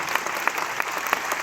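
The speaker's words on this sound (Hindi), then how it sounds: "मेरा ख्याल से ये तालियां उनके लिए बहुत कम है, इससे ज्यादा और तालियां" An audience at an anniversary speech claps continuously, a dense patter of many hands at moderate distance with no voices over it.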